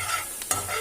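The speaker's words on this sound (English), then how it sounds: "I am sauteing this for 2 minutes on high flame" Gobi manchurian sautéing on a high flame, a steady close sizzle with a brief scrape of stirring midway through a short burst.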